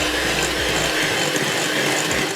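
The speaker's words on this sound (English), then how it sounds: "I'm going to go in with the cake mixer and just try and get it a little bit fluffy" Electric cake mixer whipping butter and golden caster sugar, a loud steady whirring motor with a rattling grind that runs without pause.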